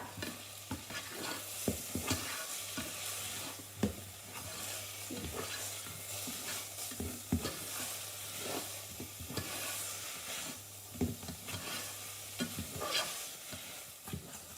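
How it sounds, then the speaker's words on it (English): Pasta sauce stirred in a pan for a long stretch, the spoon scraping in steady, repeated strokes over a soft, constant sizzle, with no voices. "hopefully you're stirring now, using the techniques"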